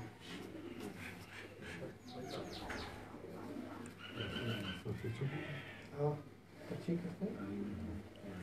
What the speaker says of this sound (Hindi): कैस भाई ये जो कबूतर है उस्ताद जुमा खान साहब के हाथ में